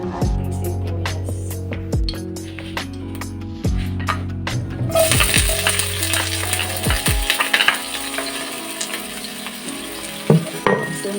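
Onions for chicken tinola hitting a hot pan and starting to sauté, a sudden loud sizzle rising over earlier clinks and stirring, continuing as a steady hiss with occasional scraping.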